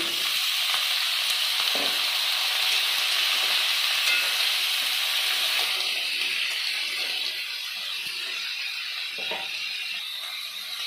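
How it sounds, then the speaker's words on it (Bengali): Chopped vegetables for a hilsa fish head chorchori sizzle steadily in a hot pan, a continuous loud frying hiss with a few faint stirring knocks, no voices. "এবার দিয়ে দেবো কেটে রাখা সবজিগুলো।"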